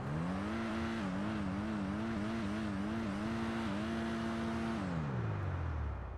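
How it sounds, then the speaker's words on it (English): A Dinka Kanjo SJ's engine in GTA 5 drones steadily with a wavering, buzzy pitch. The note rises and falls a few times, holds, then drops away toward idle at the end, with no talking. "Also, the noise the vehicle makes is kind of bad."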